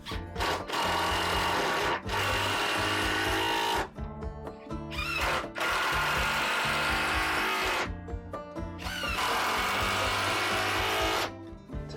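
A power screwdriver drives screws to fasten a stern post onto the transom of a Catalina Wherry rowing boat, whirring in several sustained bursts separated by short pauses, loud and close.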